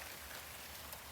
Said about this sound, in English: So this is the rain.